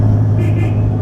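A 1934 Jaguar S.S. 1 engine runs steadily while the car drives in third gear, a loud, close, continuous low rumble with a smooth, even tone.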